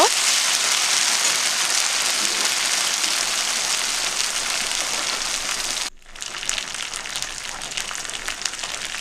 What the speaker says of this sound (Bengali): আদা বাটা দিয়ে দিলাম অল্প একটু কাঁচা লঙ্কা বাটা ভালো করে ভেজে নেব